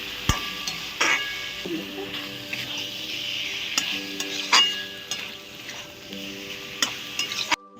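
Chicken pieces and bay leaves frying in a pan, a steady sizzle broken by sharp clinks and scrapes of a utensil stirring against the metal.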